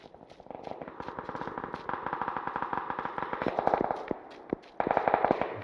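Rapid bursts of gunfire in PUBG during a finals match, sharp repeated cracks in fast automatic strings with short pauses, echoing at mid distance, no talk.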